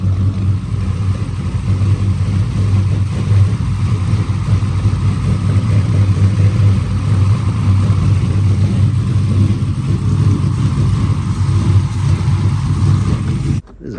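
Blacklyn race car engine running on a dyno, a loud steady low rumble with a constant throbbing drone that holds for most of the time before cutting off abruptly near the end.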